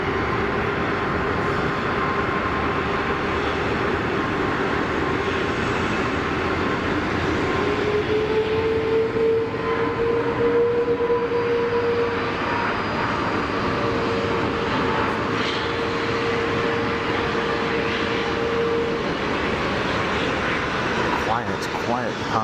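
An aircraft departs Geneva Airport, its engine roar a steady, broad rumble that swells and holds for over twenty seconds, with a rising whine in the middle of the pass.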